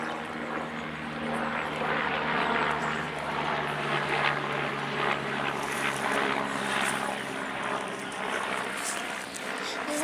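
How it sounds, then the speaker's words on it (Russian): A helicopter passes overhead in a forest, a steady droning rotor and engine hum that holds for the whole stretch, moderately loud and continuous with no voices over it. "Да, короче, вертолет."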